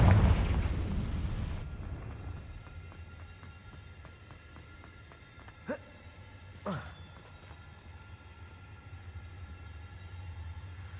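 Confringo spell blast in Hogwarts Legacy, a loud booming burst at the start that rumbles and fades, followed by two short sharp cracks over quiet ambience.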